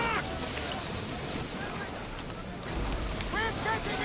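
A sailing ship cuts across the open sea in Assassin's Creed Odyssey, with steady wash of waves and wind noise running throughout and a couple of faint higher cries over the surge.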